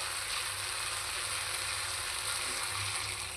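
Dal that was boiled beforehand hits a hot pan for a vegetable and dal charchari, giving a steady, close, even sizzle and frying hiss throughout with a low bubbling undertone and no talk.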